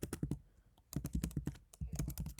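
Python code is typed on a computer keyboard in quick, close bursts of clacking keystrokes with a brief pause in the middle, with no talking.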